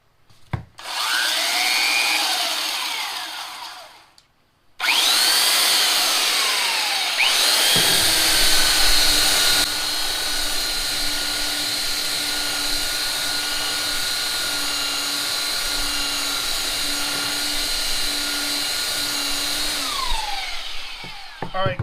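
A Makita 9903 belt sander runs on rough-cut ambrosia maple. It makes a brief loud burst, stops, then restarts and gives a steady, close, abrasive roar with a high whine that holds for about sixteen seconds before winding down.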